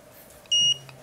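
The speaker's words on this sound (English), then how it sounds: "5 foot-pounds, it clicks and beeps red." Digital torque wrench set to 5 foot-pounds, tightening a bolt on a tube notcher, gives one short, clear electronic beep in a quiet room.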